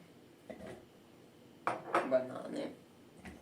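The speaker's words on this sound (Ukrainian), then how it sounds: "Висипаємо усі фрукти у тарілку." A soft clatter of cut fruit tumbling onto a plate, with a few light dish clinks, fairly quiet and brief.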